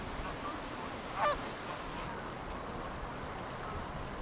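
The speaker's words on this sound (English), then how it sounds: "Despite the frigid winter temperatures, many Canada geese, as well as the smaller cackling goose," Canada geese and smaller cackling geese on an open stretch of a frozen winter river give a single brief honking call, moderately distant, over a steady wash of water and wind noise.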